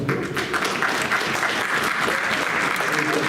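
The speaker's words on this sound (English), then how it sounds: "Why don't we clap for them?" An audience claps at a school board of education meeting, a dense, even round of applause lasting a few seconds with no break.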